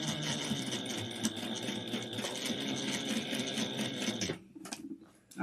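A sewing machine stitches a clutch wallet in a steady, loud, fast whir that runs unbroken for about four seconds and then stops, leaving a few faint handling sounds.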